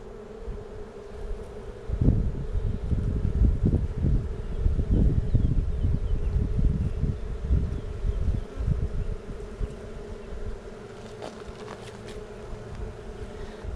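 Honey bees hum steadily around an open hive with a marked queen, a dense low drone close to the microphone that swells and wavers throughout, with faint rustling and light wind noise.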